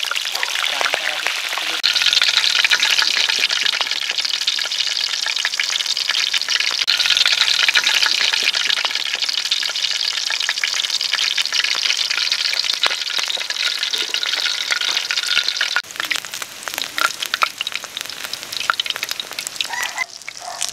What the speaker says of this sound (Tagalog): Magprito na tayo.